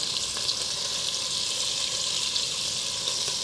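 Pieces of brisket sizzle and brown in a hot pot, a steady, loud, close frying hiss that carries on without a break.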